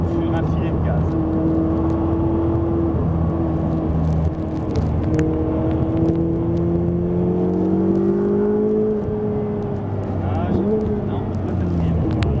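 A Ferrari 488 cruises on the Anneau du Rhin track under light throttle. Its engine drones steadily and the pitch rises and falls through the bends, while a person talks over it from inside the car.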